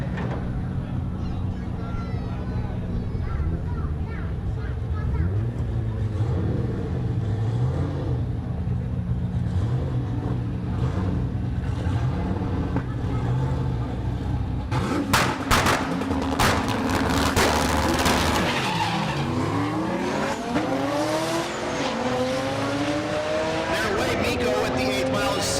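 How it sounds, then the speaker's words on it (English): A Lexus and a turbocharged, Ford-powered 1966 Fairlane with a stick shift launch side by side at a Great Bend, Kansas dragstrip; steady engine roar swells into loud, rising revs and sharp bursts midway, with an announcer talking throughout. "Loy in the Lexus, the 66 Fairlane in the right lane. I believe that is Ford powered with a turbo and a stick"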